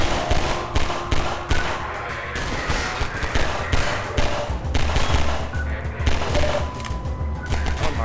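Loud, dense gunfire in Half-Life 2, with rapid overlapping shots and automatic bursts running almost continuously for about eight seconds.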